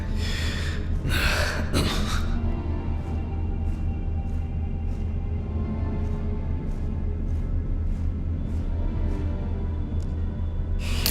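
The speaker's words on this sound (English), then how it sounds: "Deep, pleasantly cool breath." A deep, slow breath drawn in a video game about performing autopsies, a loud hiss of air near the start, heard over a steady low hum with faint repeated ticks that continue after it.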